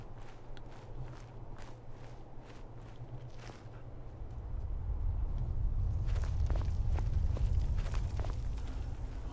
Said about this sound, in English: Hoping that's my footsteps I'm hearing.